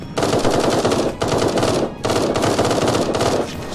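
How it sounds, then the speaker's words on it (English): Rapid automatic assault rifle fire in the video game Eden Star, loud sustained bursts broken by two brief pauses, with no talking over it. "how many times should you have to shoot a guy with an assault rifle before he dies?"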